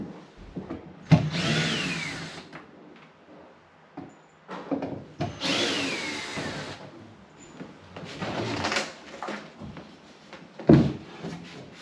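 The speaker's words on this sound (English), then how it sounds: "This board down here on the floor is actually screwed in, so I'm gonna take these screws out" A power driver backs screws out of a kitchen floor board in short whirring bursts separated by pauses, with wood knocks and clunks in between; close and moderately loud.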